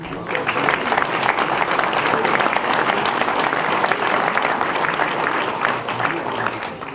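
A crowd claps steadily and warmly for sports club honorees at a local ceremony, loud sustained applause filling the room for several seconds, with voices murmuring beneath it.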